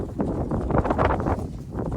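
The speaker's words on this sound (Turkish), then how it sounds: "Rüzgar bugünlerde çok esiyor." Steady wind buffets and roars across the microphone on a villa terrace in Didim, Turkey, a continuous rough rumble with gusty swells and no clear pauses.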